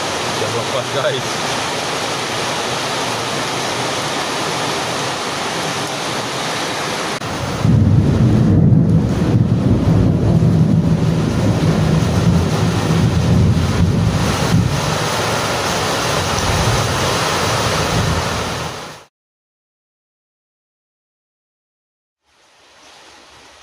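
Heavy rain pours in a steady broadband roar. It grows noticeably louder and denser partway through, then cuts off abruptly into silence near the end.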